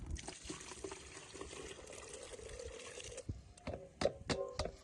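Liquid is poured into a small bucket, a quiet continuous splash that stops after a few seconds, followed by a few faint knocks and drips.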